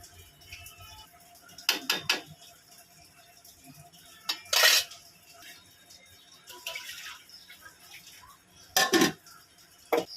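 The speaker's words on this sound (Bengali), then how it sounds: "কড়াইতে ধরছিল না, তাই আমি এই হাঁড়িটার মধ্যে ঢেলে নিলাম।" Chicken mince ghugni is tipped from a wok into a cooking pot in a quiet kitchen, with scattered metal clanks and scrapes of utensils against cookware.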